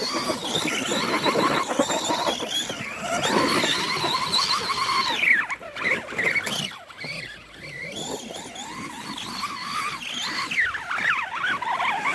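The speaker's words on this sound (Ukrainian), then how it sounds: "Той, що любить погазувати, нормально зробити такий сніжний дрифт." Remo Hobby EVO R RC car revving and drifting in snow, its high electric whine climbing and falling in pitch through repeated bursts of throttle, continuous and close.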